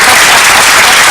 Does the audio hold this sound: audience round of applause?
yes